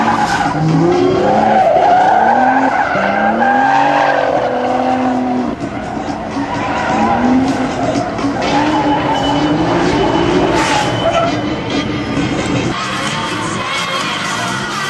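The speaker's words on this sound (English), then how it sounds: "Kicks it sideways with a clutch kick, but those Kumos refuse to slip as the car straightens back out" A Nissan sedan drift car slides sideways at a drift competition with loud, sustained tire screeching and a revving engine, the squeal rising and falling over a murmuring crowd.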